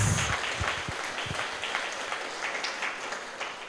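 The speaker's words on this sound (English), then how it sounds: "Please give them a very good applause." An audience applauds two young dancers at an arangettam, a classical Indian dance debut. Thick, continuous clapping fills the room throughout, with a few low thuds at the start.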